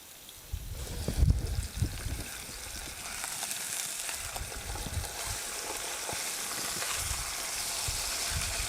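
Marinated flank steak searing in a hot pan for fajitas, a steady hissing sizzle with a few louder thumps and crackles near the start, close and continuous without voices.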